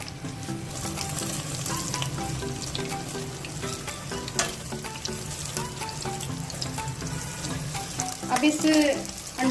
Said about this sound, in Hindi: अब इस अंडा मेरा फ्राई हो चुका है, छोटे छोटे पीस कर दिए हुए हैं।